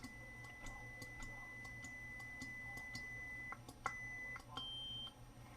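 An UltraSabers Vented Spectre lightsaber with a Proffie 2.2 board sounds its volume menu tones, faint electronic beeps, one held and then shifting higher, over quiet ticking in a still room.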